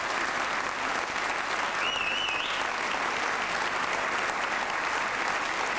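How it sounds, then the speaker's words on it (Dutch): Loud, dense, continuous applause from a television game show studio audience, a sustained roar of many hands with a brief whistle riding on top partway through. "En een geweldig applaus, dames en heren, voor Peter."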